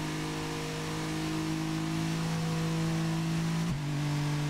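An Alfa GTV Cup race car engine in ToCA Race Driver holds a steady, loud revving whine, dips briefly at a gear change, then continues at high pitch.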